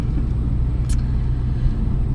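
Low continuous road rumble fills the inside of a moving car, steady and loud, with a brief faint click partway through and no talking.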